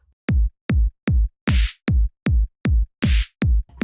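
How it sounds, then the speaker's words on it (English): Drum machine in game music playing a repeated pattern: evenly spaced punchy kicks, with bursts of bright hissy noise like a crash or snare on some beats, steady and loud without any voices. "And then we had that drum machine,"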